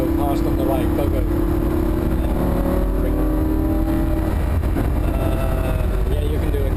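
A Lamborghini Huracan sports car at Thruxton race track, its engine droning steadily loud with shifting pitch under continuous in-car talk.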